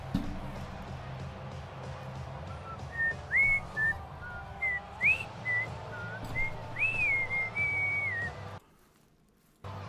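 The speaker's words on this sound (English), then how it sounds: "See, I'm still whistling K-pop Demon Hunters." A man whistles a catchy tune from K-pop Demon Hunters in short melodic phrases over a steady low background hum with faint crowd-like murmur, then stops abruptly near the end.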